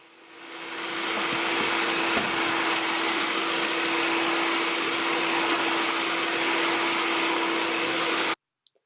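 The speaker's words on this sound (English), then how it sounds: "take a stand mixer or a hand mixer and mix together all of the ingredients on low speed for about a minute" A stand or hand mixer works pretzel dough on low speed, its motor whirring up to a steady, even hum that holds for several seconds before cutting off abruptly near the end.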